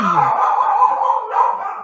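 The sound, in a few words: dogs barking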